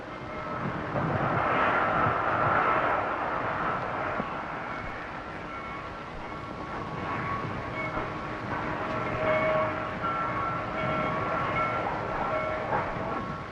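Freight cars being switched rumble and roll steadily along the track with faint metallic clatter, a continuous mechanical drone and no voices.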